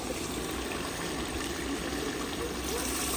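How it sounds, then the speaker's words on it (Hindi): Roughly 7 litres of water pour into a large pot of vegetables for a big Punjabi pulao, a steady close rushing splash that holds at a constant level throughout with no break. "और अभी पानी डालते हैं"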